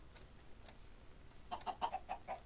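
Several chickens clucking together in a video game, faint at first then a quick burst of rapid overlapping clucks near the end, fairly quiet overall.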